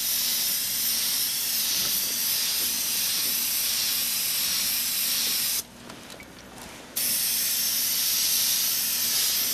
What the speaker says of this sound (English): So you spray the whole thing on it?